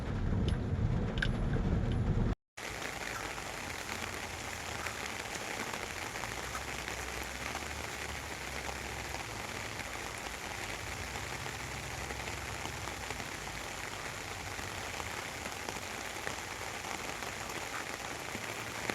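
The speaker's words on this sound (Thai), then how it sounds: "ฝนตกโปรย ๆ แต่เราก็ไม่หวัน่น" Light rain falls steadily over a durian orchard in Chumphon, a continuous soft hiss of drops on leaves and ground that carries on evenly without letup after a brief cut at the start.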